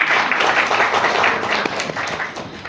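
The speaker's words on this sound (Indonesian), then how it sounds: "itu perlu kita kasih apresiasi dan kita tepuk tangan semuanya" Audience applause at a teacher-training event: a room full of people clapping together, dense and continuous at a fairly loud level, tapering slightly toward the end.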